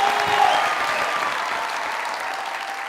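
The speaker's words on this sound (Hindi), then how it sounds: "तालियां" An audience claps steadily and loudly in a hall, a dense, even wash of applause that tapers slightly toward the end.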